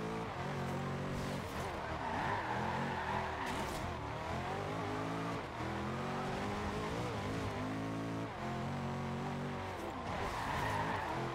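A Bugatti Veyron Super Sport in the racing game Forza Horizon 2 drones continuously with a dense, steady engine tone that rises and falls with gear changes, loud and unbroken for the whole stretch, with occasional tire noise.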